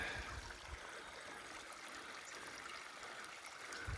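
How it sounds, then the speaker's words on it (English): Steady broadband rush of a creek flowing after overnight rain on the Heysen Trail near Wilpena, a continuous bubbling trickle with no voices, fairly close and even throughout. "This creek here has started to flow overnight. I can hear it bubbling away."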